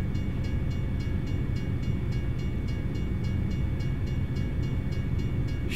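A train in American Truck Simulator gives a steady low rumble with regular rhythmic clacking of wheels over rail joints, continuous and fairly loud throughout, with no talking.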